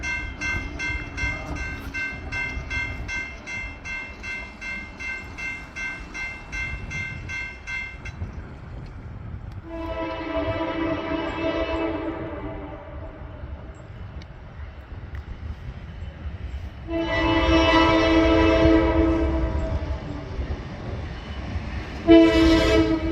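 A Norfolk Southern freight train rolls past with a continuous rumble and rattle of wagons. Its chord horn sounds in several loud, sustained blasts, the last one short and abrupt.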